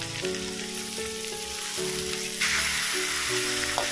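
Pieces of giant Mekong catfish stir-fried in a pan, a loud close sizzle that swells as the fish goes in, with an underlying tonal hum and scraping.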